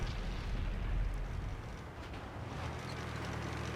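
A tank cannon shot in World of Tanks on PS4, fired by a British Comet medium tank at a Bulldog light tank, as a heavy low boom with rumbling tail under steady battle noise.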